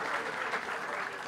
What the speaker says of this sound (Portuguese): uma salva de palmas aí, todo mundo que participou aí com a gente